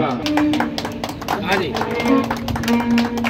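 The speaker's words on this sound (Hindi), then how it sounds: "तालियों से अभिनंदन" An audience clapping in welcome at a community felicitation ceremony and hostel inauguration, with steady rhythmic claps mixed under a speaker's voice and sustained tones of music playing throughout.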